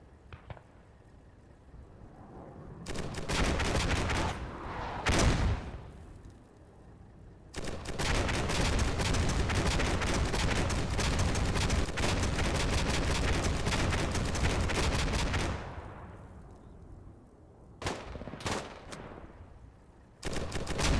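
Artillery barrage and gunfire from the video game Combat Mission Shock Force 2: loud sustained volleys of shots and blasts fill long stretches, broken by sharp separate reports and quieter lulls, with no voices.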